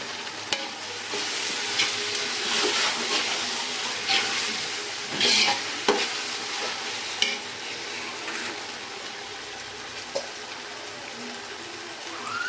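Onions fry and sizzle in a pan for soya biryani, with a steady hiss and occasional sharp spits as a spoon stirs and scrapes through them nearby.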